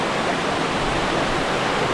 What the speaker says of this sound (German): Ein herrlicher Bachfluss, nennt es wie ihr wollt.